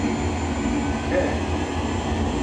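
A Pacific XSTOL turboprop airplane taxis along a runway at a Manitoba airstrip, its engine holding a steady, fairly loud rumbling drone throughout the short stretch.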